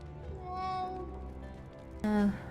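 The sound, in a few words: cat meowing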